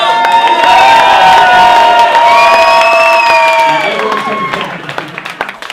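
A loud crowd cheers and whoops, with shouts and scattered clapping swelling together, then thinning slightly toward the end.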